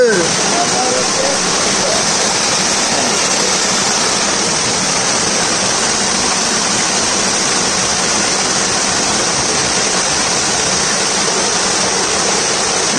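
Sadashivgad waterfall pours in a steady, loud broadband roar that fills the whole span, with voices faintly present beneath the rushing water.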